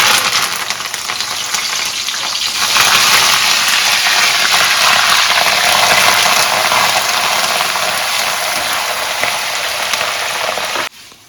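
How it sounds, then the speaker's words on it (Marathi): Curry leaves frying in hot oil for a Maharashtrian poha chivda, a loud steady sizzle and crackle close by that fills the whole stretch and cuts off abruptly near the end, with no voices. "कडीपत्ता आपला तळून झालाय आता"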